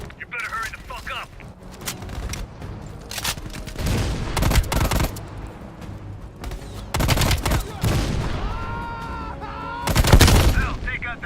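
Video game battle audio with heavy machine gun fire from a ridge mixed into loud bursts of gunfire and explosions. Game voices talk over the din.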